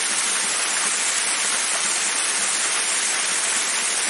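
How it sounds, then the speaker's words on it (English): Water is hand-pumped through a camping water filter, giving a continuous close hiss and rush of flowing water that stays even and unbroken throughout. "Water will go through the filter."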